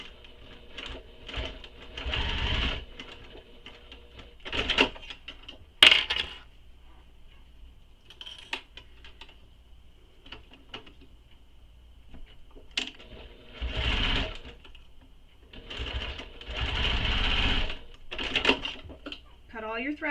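A sewing machine bastes a handbag in place in short, intermittent bursts of stitching separated by pauses, close and fairly quiet, with a person speaking between runs.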